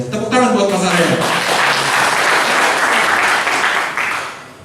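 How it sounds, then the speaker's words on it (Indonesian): Applause from the audience at a church gathering, loud dense clapping that swells in after a voice at the start and fades near the end. "tepuk tangan buat Pasaren"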